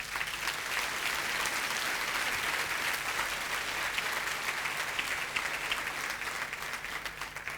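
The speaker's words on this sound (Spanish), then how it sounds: "dale un aplauso al Señor." A church congregation applauds together, a dense, steady wash of many hands clapping at even loudness for several seconds, tapering slightly at the end.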